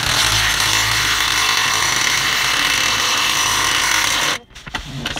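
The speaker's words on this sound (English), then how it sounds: "So let's get the impact driver here and the wrench." Impact driver running a jack-mounting bolt on a 1999 Fleetwood Discovery motorhome during a Safe-T-Plus install, giving a loud, steady mechanical whir with a hammering rattle that holds for about four seconds, then cuts off abruptly.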